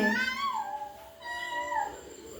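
A toddler about a year and a half old imitates a cat's meow with two drawn-out, wavering mews, close and clear, with a short pause between them.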